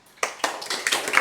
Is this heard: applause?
yes